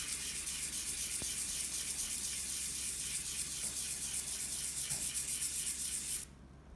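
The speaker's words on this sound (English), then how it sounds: "now I'm gonna start with the 1000 grit. Really polish it up." A small silver charm is rubbed on 1000-grit sandpaper in quick, steady back-and-forth strokes, making a close, soft scratchy rasp that stops abruptly near the end.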